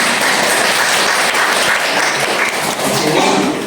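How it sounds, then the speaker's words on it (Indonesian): A classroom group gives a burst of dense, continuous clapping throughout, loud and close, with some voices mixed in. "Boleh tepuk tangan dulu."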